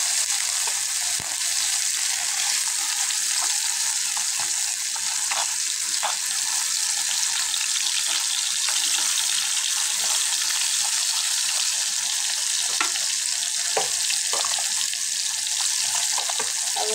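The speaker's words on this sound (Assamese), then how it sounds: "ফ্ৰাই কৰি আছোঁ মানে, এফালে হিলাই আছোঁ লাহে" Fish frying in a hot kadai for an Assamese-style fish curry, stirred slowly, gives a steady, close, hissing sizzle with light scraping clicks throughout, and no talking.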